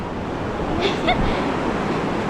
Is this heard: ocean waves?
yes